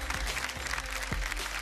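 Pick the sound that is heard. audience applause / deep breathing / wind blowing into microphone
audience applause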